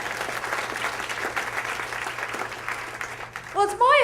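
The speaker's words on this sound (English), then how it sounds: "How about a nice round of applause for Linda?" Audience applause at a speaking event, a sustained bed of crowd clapping heard fairly close, with a speaking voice rising over it at the end.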